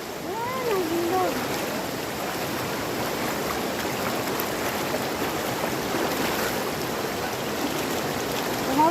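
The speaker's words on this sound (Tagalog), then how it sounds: "Yan ang ilog. Tatawid kami ng ilog." A river flows steadily near Tacul Cave in Sultan Kudarat, a continuous broadband rush of water with splashing textures. Brief whistled or voiced tones rise over it early on and again at the very end.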